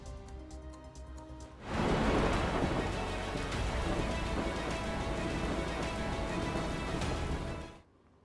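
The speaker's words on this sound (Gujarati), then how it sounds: "મહુવામાં માત્ર 2 કલાકમાં 3 ઇંચ વરસાદ થયો." Heavy rain pours down in Mahuva, a downpour of three inches in two hours, starting abruptly as a loud, dense roar that holds steady for about six seconds before cutting off.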